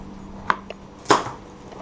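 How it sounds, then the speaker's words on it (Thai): A knife chops luffa gourd on a board with two crisp, close strikes, a lighter tap between them, while vegetables are prepared for Thai kaeng liang soup. "หั่น บวบ เป็นลักษณะอย่างเงี้ยนะครับ"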